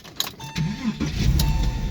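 A car engine cranks and catches, then settles into a steady idle, heard at moderate distance with a few faint clicks before it fires.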